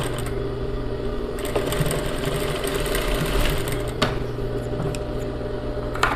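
A sewing machine runs steadily at close range, stitching a small, tight zigzag finishing seam on a sleeveless blouse with a steady mechanical whir and no talk.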